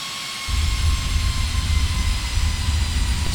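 A PMDG 737-800 jet landing with reverse thrust in the P3D flight simulator, where a steady roar suddenly surges into a loud, deep rumble that holds for several seconds. No voices are heard.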